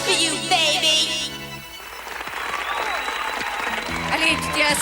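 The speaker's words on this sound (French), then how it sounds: "Allez, tu t'es assez fait applaudir" Music with a tonal chord fades out, then crowd applause from a concert audience swells in, mixed with cheering and a bright tone, before musical tones return near the end.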